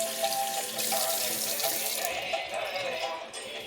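Water pours steadily from a tap while hands are washed at a sink, a continuous close hiss and splash that shifts slightly as the hands move under the stream.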